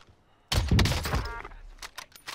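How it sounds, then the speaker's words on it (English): Cluster airstrike explosions in Call of Duty, a sudden loud burst of overlapping booms and thuds rolling for about a second before tapering into smaller scattered impacts. "Allied cluster strike inbound."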